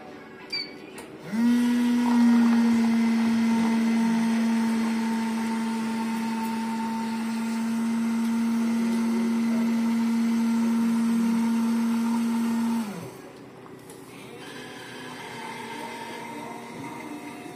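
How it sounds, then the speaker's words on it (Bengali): A free in-room coffee machine at an Ibis Styles hotel in Birmingham runs with a steady, loud mechanical hum for about eleven seconds, then cuts off abruptly, leaving quiet room tone behind. "এইটা হলো কফি মেশিন"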